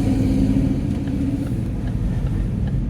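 Classic cars cruising along the strip on Baltimore Avenue, a close, steady low engine rumble with a faint hum over it, continuous and without voices.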